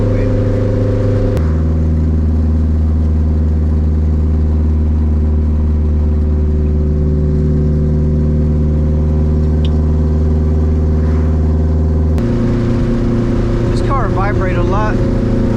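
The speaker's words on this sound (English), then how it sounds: "This thing sounds like a Harley when it's idling." A K24-swapped Civic engine idles loudly up close, a deep, throbbing rumble that holds steady, then shifts in tone and roughens near the end.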